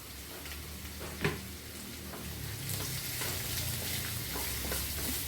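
Sliced onions and green chillies sizzle steadily in a hot pan while being stirred, a close continuous frying hiss with occasional soft scrapes.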